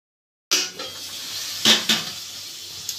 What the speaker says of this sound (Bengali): তো এই যে আলু ভাজা হচ্ছে